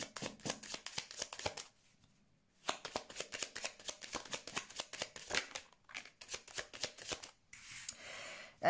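Lenormand cards are shuffled for a card reading in a run of quick, crisp riffling bursts. A pause breaks the rhythm at about two seconds, and the shuffling then resumes close up and clear.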